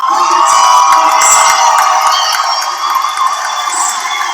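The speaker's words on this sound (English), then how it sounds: "Balzano's got the crowd supporting" A dense, loud crowd cheers and whoops for fighter Balzano at a 130-pound weight-class fight, a steady roar that holds throughout with no break.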